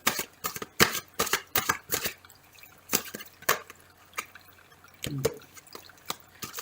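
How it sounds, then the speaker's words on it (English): Rapid papery riffles and soft slaps of tarot cards being shuffled, in bursts with short pauses, close and fairly quiet. "One more shuffle."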